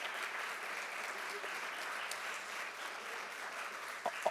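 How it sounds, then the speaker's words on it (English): Audience applause at the 18th Annual Izzy Award ceremony, a steady wash of clapping at moderate distance that holds for about four seconds before a couple of louder nearby claps or knocks near the end. "So I'd like to give a round of applause for Brandy"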